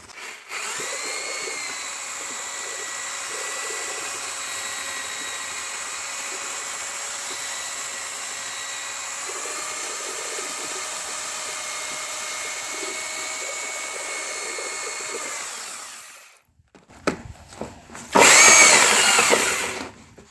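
A power drill mixing crystalline waterproofing mortar whirs steadily for about fifteen seconds at a constant pitch, then stops; a short burst of louder, rougher mixing noise follows.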